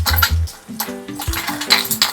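Scotch bonnet, salt, sugar and chopped spring onion are stirred in a bowl, a spoon clinking and scraping against it in short, close, uneven strokes.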